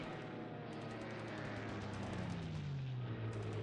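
Anti-aircraft guns fire in the World War II naval strategy game War in the Pacific. The game audio is a continuous, low-level rattle of gunfire under a descending whine, all faint and without speech.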